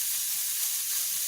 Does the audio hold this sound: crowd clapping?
no